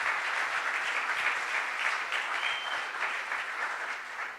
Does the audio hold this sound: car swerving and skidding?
no